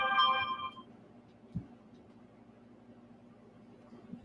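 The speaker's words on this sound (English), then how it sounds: "I got my phone going off, folks." A phone ringtone briefly goes off at the start, a bright electronic melody that cuts out quickly, leaving a quiet room hum with a faint bump.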